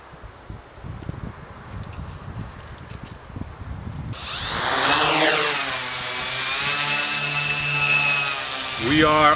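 FPV tricopter lifting off from the ground and flying, a rising whine of its motors and propellers sweeping up in pitch after some quiet rustling, then holding a loud steady buzz with wavering tones.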